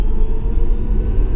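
Tesla Model S P90D, a 2016 car in Ludicrous Mode, launching from 0 to 60 with four people aboard: a steady deep in-cabin rumble with faint electric whine, loud and continuous throughout.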